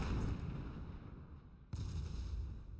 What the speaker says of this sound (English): Here come those Hades shots